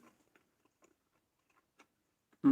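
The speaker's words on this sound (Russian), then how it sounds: "Жестковато жуется." Sushi rolls being chewed: faint, sparse, close-up soft clicks and crunches of chewing in a quiet room, ending with a sudden loud thump.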